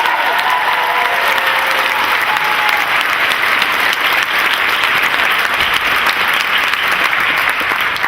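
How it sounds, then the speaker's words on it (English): Sustained audience applause fills a large convention panel room at Dragon Con, a dense, steady wash of many hands clapping at close to moderate distance with no pauses, running throughout. "let's give them a round of applause"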